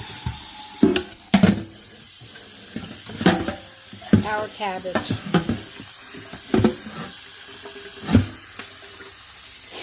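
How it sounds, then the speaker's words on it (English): Water splashes into a cooking pot for steaming cabbage with bouillon, in short irregular bursts mixed with clanks, under a person talking nearby. "we're going to put some water in here"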